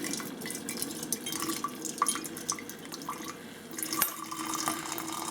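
Water poured from a container over a surface to rinse off a smidgen of dye powder while hand dyeing, a steady close trickle with small drips and splashes and no talk.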